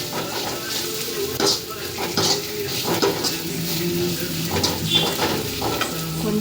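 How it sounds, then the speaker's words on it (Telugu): Crushed garlic paste fries in hot oil, giving a steady close sizzle with occasional scrapes and clinks of a spoon stirring the pan, a faint voice briefly underneath. "ఆయిల్లో కొంచెం ఫ్రై చేయాలి."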